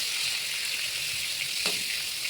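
Sliced pointed gourd (potol) fries in hot oil, giving a steady, moderately soft sizzle with one brief clink partway through.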